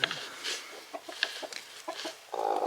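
A broody hen clucks softly in short, scattered bursts close by, low murmured calls spaced irregularly, ending in a slightly louder, steadier vocal sound.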